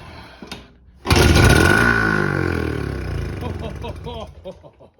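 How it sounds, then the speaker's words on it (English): Old motorcycle engine, just fitted with a new condenser and primed with fuel, coughs and roars into life after the ignition is switched on, a sudden loud burst that holds briefly, then fades with uneven sputtering. A voice speaks near the start. "And now turn the ignition on."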